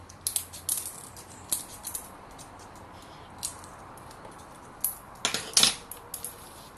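Scissors snipping household waste into small pieces for home composting, a handful of sharp metallic clicks and cuts spread irregularly, close and fairly quiet with a brief louder cluster near the end.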